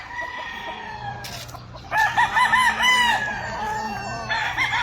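Roosters at a farm in Batangas crow loudly and close by, one long drawn-out call rising over clucking hens, followed by a second crow near the end; no one speaks.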